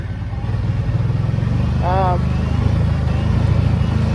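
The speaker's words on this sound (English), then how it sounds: "Out on the 2022 Brute Force 750. Just for a little evening ride." A 2022 Kawasaki Brute Force 750 ATV engine drones steadily and close while riding in the evening, its low rumble continuous throughout, with a brief voice-like tonal sound partway through.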